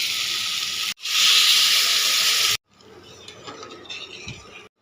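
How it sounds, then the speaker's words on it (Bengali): Water hits a hot pan of well-cooked tomato masala, giving a loud burst of hissing steam that stops sharply, followed by quieter sizzling and bubbling up close. "ভালো করে কষিয়ে নিয়েছি, এবারে জল দেব।"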